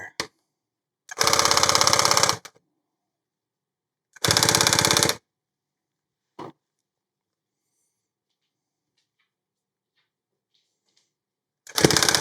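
Claw Lab H1 tufting gun punching yarn: loud rapid mechanical rattling in short bursts of about a second each, separated by silence, with a few faint clicks between.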